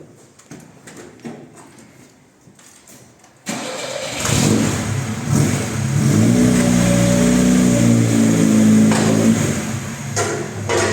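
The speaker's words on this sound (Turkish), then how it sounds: "Şimdi şöyle bir meydana çıkarayım arabayı ben" A Lada Niva engine cranks and catches around the three-second mark, then idles and revs loudly as the car pulls away. The quiet start gives way to a steady, rumbling drive with no talk.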